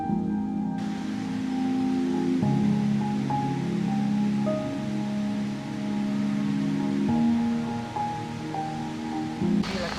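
A waterfall in Australia pours with a moderate flow, a continuous broadband rush of falling water that stays steady and fairly close throughout, with no voices.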